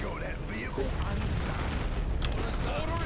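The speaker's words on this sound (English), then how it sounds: "When missiles are that big, you expect bigger explosions." Missile explosions in Warhammer 40K: Dawn of War 2 Retribution sound as a dense, continuous rumble of blasts and battle noise, with a voice talking over the action.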